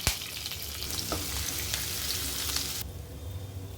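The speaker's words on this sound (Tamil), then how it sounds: "அடுத்து இதில் கருவேப்பிலை இஞ்சி துருவினது சேர்த்துக்கிறேன்" Cashews, curry leaves and grated ginger crackle loudly in hot oil for rava pongal, a dense close sizzle with stirring scrapes that cuts off abruptly near the end.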